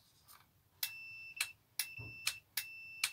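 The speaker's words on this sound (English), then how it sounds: "And you can hear the beep. So the glow plug function works." Several short, sharp electronic beeps from a glow plug tester on a Volvo Penta marine engine repeat in a steady rhythm, loud and close, against a quiet background.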